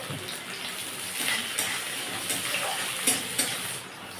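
Chopped onion fries in oil with green cardamom, a soft continuous sizzle with occasional sharper crackles and stirring scrapes, fairly quiet and without voices.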